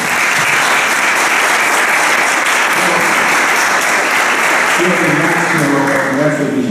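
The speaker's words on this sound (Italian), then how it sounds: "che prego per gli fare un applauso." A dense, loud round of audience applause at a municipal ceremony honoring a local maestro, sustained throughout, with a voice beginning near the end.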